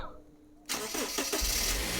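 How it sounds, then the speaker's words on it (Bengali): A Toyota Hiace TRH-200 van with a 2000cc VVT-i engine cranks and starts quickly after a short quiet moment, then settles into a loud, steady idle close by. "দেখেন টোকায় টোকায় স্টার্ট সাউন্ড কন্ডিশনও পারফেক্ট অবস্থায় আপনারা পেয়ে যাবেন"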